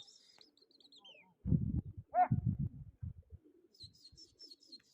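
Pigeons in a flying competition, with high chirps and coos drifting in and out, a few close bursts of fluttering or low thumping sounds in the middle, and quiet stretches between.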